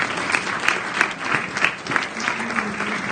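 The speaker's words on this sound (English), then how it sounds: "How about a round of applause?" A crowd at a talk on Washington politics gives a round of applause, moderately loud with individual claps pulsing through for about three seconds.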